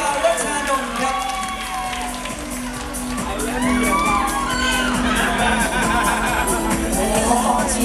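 An audience at a transgender beauty pageant cheers and shouts for a contestant, with whoops and high excited voices building louder over a steady background hum.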